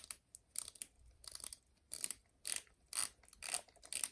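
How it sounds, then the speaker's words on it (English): Seiko Antarctica watch bezel turned in short bursts, each burst a quick run of crisp, close ratcheting clicks with brief pauses between, about eight bursts in all. "And a quick bezel check."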